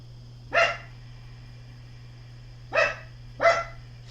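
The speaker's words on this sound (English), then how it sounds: "sweet little baby dog, sweet little baby dog, you're going to make me insane" A small dog barks three times indoors, a short yap followed by a pause and then two quick barks, moderately close over a faint steady hum.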